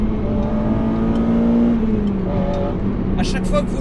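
Honda Integra Type R DC5 Mugen engine pulled hard at full throttle on a slippery road, a loud steady engine drone rising in pitch then easing, close and continuous under a voice talking over it.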